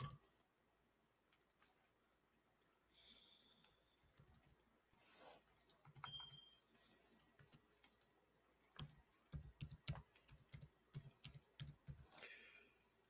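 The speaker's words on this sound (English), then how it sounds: "Then you type in family law." Sparse taps on a computer keyboard, faint and irregular at first, then a quicker close run of keystrokes near the end, with faint background chirps.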